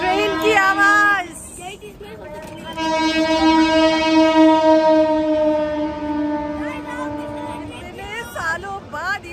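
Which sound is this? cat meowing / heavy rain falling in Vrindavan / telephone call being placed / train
train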